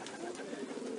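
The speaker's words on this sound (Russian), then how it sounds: "Я вообще голубей держу очень много" Artamon pigeons in a loft, a close flock cooing with soft, steady, overlapping murmurs throughout a short stretch.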